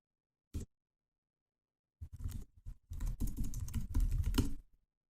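Someone types on a computer keyboard, first a single key press, then a quick, steady run of close, dry clicks that ends abruptly.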